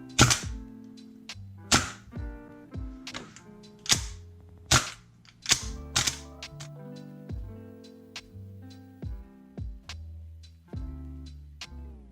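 A Matrix gas blowback M4 CQBR airsoft rifle fires a string of sharp single shots, irregularly spaced, close and crisp with bolt clatter after each pop.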